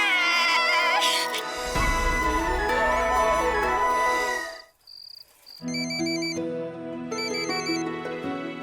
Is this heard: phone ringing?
yes